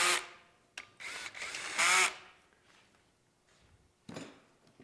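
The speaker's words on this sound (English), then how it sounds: "I've got my electric gun here set on 1. We'll get these going" An electric impact gun set on its lowest setting drives bolts on a 350 engine job in a few short, loud bursts of whirring hammering, separated by quiet pauses, with one final brief run near the end.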